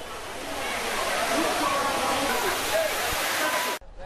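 Courtallam waterfall, crowded with bathing tourists, roars as a steady, dense rush of falling water, loud and close, cutting off abruptly near the end.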